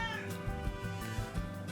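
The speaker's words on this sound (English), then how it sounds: "Cat is making a noise." A house cat lets out a sustained, wavering caterwauling meow close by, nearly continuous across the moment with slight rhythmic pulses and no talk over it.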